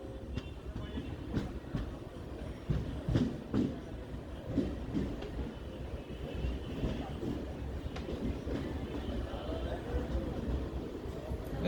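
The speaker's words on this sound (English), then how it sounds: "We are pulling into platform number 1 of Kanjangad station at 4:20 p.m." Unreserved second-class passenger train on the Mangalore–Trivandrum special pulling into platform 1 of rain-soaked Kanjangad station: a steady, close rolling rumble with scattered wheel clicks and faint background voices.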